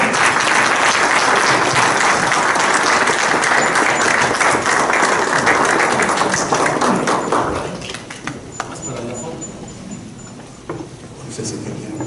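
An audience at the opening of an academic event on globalization applauds loudly and steadily for several seconds, then the clapping thins into a few scattered claps and room murmur as voices start up.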